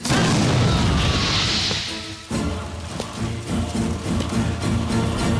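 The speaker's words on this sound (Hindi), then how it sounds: "मिनिस्टर बद्री प्रसाद के फार्म हाउस में आज दोपहर को एक बम धमाका हुआ" A bomb blast at a minister's farmhouse in a film: a loud booming crash with whooshing debris, followed by sharp scattered impacts and rumbling aftermath.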